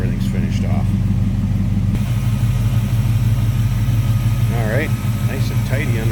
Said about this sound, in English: Let's take a look at the engine bay and see that engine running there, listen to it